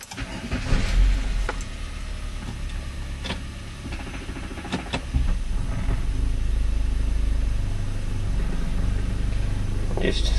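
A Magna car's engine runs steadily as it is shifted through the gears, a low rumble with scattered mechanical clicks and knocks that swells to a fuller, constant drone partway through.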